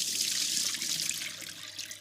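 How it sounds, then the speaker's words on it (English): Cold water runs from a tap over cooked fregola pasta in a metal sieve, a steady close rushing splash that holds for the whole stretch with no voices. "Cold water, and then just pass it through the sieve."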